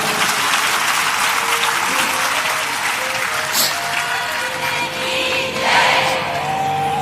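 An audience at a Hindu satsang gathering claps loudly and continuously, a dense wash of applause that fills the whole stretch with a slight surge near the end.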